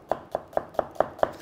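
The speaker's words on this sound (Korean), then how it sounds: "원형을 기준으로 쭉 줄기 따라서 썰어주시면 일정한 크기의 양파를 보실 수 있으실 겁니다" A knife slices through an onion on a cutting board in six evenly spaced, crisp chops, close and clear, with no voices.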